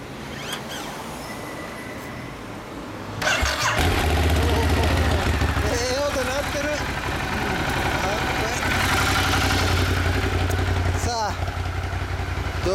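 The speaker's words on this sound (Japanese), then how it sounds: "1200S、ごめん、エンジン音聞かせて。" A 2014 Ducati Monster 1200S engine starts and runs loud and close after a few seconds of quieter sound, with a low steady rumble and rising revs, while people talk over it.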